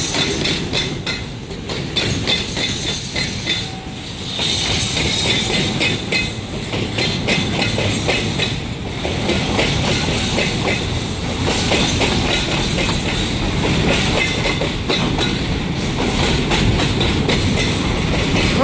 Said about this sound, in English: That's a long ass train.